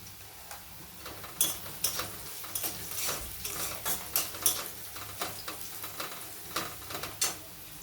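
Nigella seeds frying in hot oil in a pan, a steady close sizzle with irregular sharp crackles and pops, no voices.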